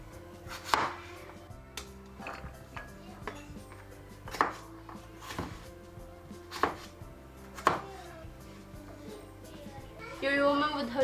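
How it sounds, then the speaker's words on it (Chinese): Kitchen knife chopping a potato into slices and dice on a cutting board, a few sharp separated knocks spaced irregularly, with low home background noise and a clatter near the end. "拿出一把菜刀，然后就开始切片，"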